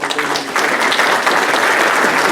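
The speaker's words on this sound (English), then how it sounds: "Let's give them applause for the work they're" Steady applause fills a city council meeting in Rocky Mount, dense hand clapping from the gathered attendees holding at an even level throughout with no voices over it.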